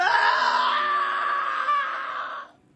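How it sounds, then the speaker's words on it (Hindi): A man screams in terror in a Hindi horror story, a long sustained high-pitched cry that stays loud and close for over two seconds before cutting off, with no other voices. "उसकी भयानक शक्ल देखकर चीखने लगता है।"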